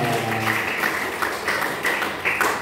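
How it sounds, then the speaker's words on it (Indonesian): A classroom of students claps together in a rhythmic cheer during an accounting lesson, with broadband bursts repeating steadily and loudly across the whole moment. "Tepuk tangan."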